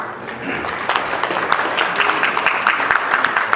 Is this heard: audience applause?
yes